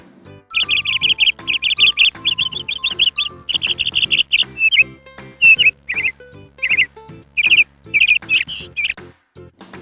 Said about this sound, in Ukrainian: це ми почули спів пташок за вікном